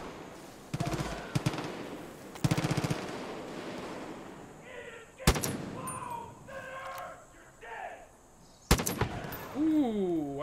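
Rifle fire in the Far Cry 5 video game arrives in a few sharp bursts and single loud shots, separated by quieter stretches of game ambience and a voice talking.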